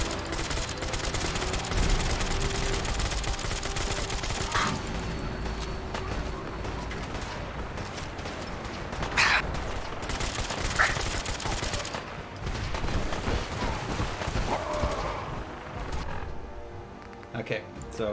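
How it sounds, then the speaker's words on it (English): Submachine gun fire in a video game, heard as sustained rapid bursts that run loud and nearly continuous over busy game sound, with brief pauses and clanks between volleys. "we're gonna switch to the submachine gun for this."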